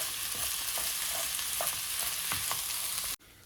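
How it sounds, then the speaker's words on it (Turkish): Rice sautéing in a pan with carrots and onions for an Uzbek almond pilaf, a steady close sizzle with light stirring scrapes throughout, stopping abruptly near the end. "Üzerine pirincimi ilave ediyorum. Ve birkaç dakikada pirincimi kavuracağım."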